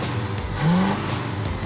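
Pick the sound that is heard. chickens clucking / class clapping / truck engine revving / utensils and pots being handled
truck engine revving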